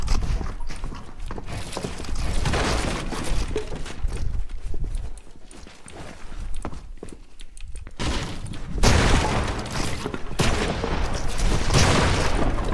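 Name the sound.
gunfire from Fortnite video game, pump shotgun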